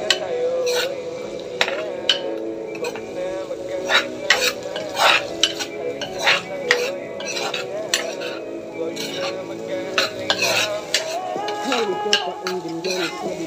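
Garlic sautéing in a pan, a steady sizzle punctuated by repeated scraping and clinking of a ladle against the pan, close and busy, with occasional brief speech.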